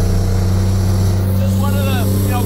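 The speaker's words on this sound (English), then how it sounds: "Listen to this windshield wiper." An air-powered windshield wiper on a 5-ton military truck cab in the rain, a faint squeaking, hissing sweep over the loud, steady rumble of the truck's engine.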